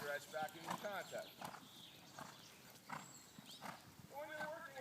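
Horse hooves clip-clop in a steady walking rhythm during a schooling session in a circle with a Chambon training aid, the hoofbeats moderately close and running under continuous talking.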